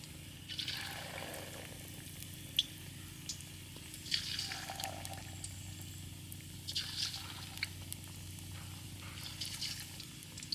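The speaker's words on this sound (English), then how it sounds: "Then I'm going to be deep fry it." Raw pork chop deep frying for Peking pork chops, a steady low bubbling sizzle of hot oil with brief brighter hissing bursts, fairly quiet and continuous with no talk.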